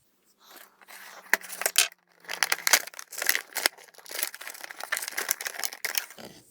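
Plastic toy packaging for a Tomy Skarloey train set crinkles and tears in quick bursts at close range, with short pauses between handfuls.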